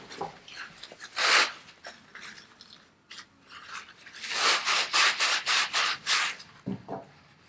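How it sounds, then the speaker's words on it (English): A Scotch pad scrubs the edges of aluminum intercooler piping in repeated abrasive strokes, bursts of rubbing with short pauses between them, close and fairly loud with no talking. "to get on the outsides, I like to use a Scotch pad. Again, that is used just for aluminum."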